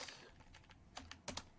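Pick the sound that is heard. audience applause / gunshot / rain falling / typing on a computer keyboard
typing on a computer keyboard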